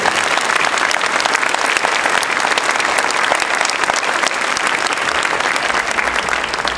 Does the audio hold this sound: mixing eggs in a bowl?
no